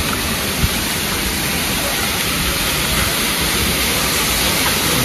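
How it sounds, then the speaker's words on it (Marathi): A small waterfall near Ekvira Devi temple in Maval pours in heavy monsoon rain, making a steady, even broadband rush of water and rainfall that holds at the same level throughout with no pauses. "ते एक वॉटरफॉल आहे समोरच छोटासा जाता जाता."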